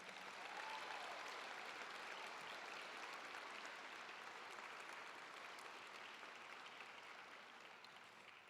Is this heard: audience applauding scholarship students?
yes